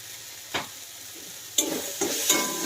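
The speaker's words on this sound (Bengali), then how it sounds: "ভালো করে মিক্স করব" Spices being stirred into ghugni in a pan: a few separate scraping strokes of a spoon against the pan over a faint steady sizzle, with no voices.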